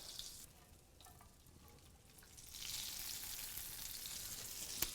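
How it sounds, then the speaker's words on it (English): Eggs frying in melted butter in a frying pan, a steady sizzle that swells louder and brighter partway through, close and continuous with no talking. "now we're going to put our eggs in the frying pan with the melted butter"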